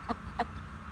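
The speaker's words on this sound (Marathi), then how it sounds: "गावरान कोंबडी जेव्हा अंडी द्यायची असते तेव्हा त्या कशा आवाज करतात" Native village hen clucking before laying eggs, two short, close clucks about a third of a second apart over quiet farmyard background.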